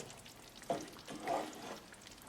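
Lobster alfredo sauce with langostino being stirred in a pan, quiet and close, two soft swishing scrapes of the spoon over a low simmering hiss.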